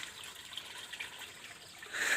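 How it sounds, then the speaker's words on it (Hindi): A village waterfall that keeps flowing even through drought gives a faint, continuous watery hiss and trickle, heard from some distance, swelling slightly at the end, with no voices. "ये झरना है, इधर से भी देख सकते हैं"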